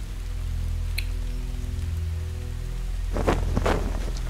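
Steady rain falls in the Metal Gear Solid 3 Snake Eater game, a dense constant hiss with a low droning hum beneath and a few sharper splashy bursts near the end, with no voices.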